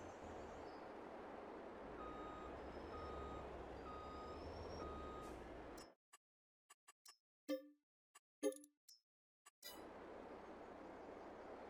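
A truck reverses into a parking spot in Farming Simulator 22, its backup beeper ticking in a steady repeated pattern over a constant engine drone. The sound cuts out abruptly, followed by a few short clinks and knocks.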